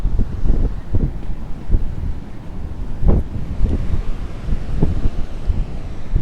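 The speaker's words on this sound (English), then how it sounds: "it's super windy, so I'm not sure how the mic's gonna pick everything up" Strong wind on a beach beside the ocean buffets the microphone with constant low rumbling and repeated thumping gusts, loud and close throughout.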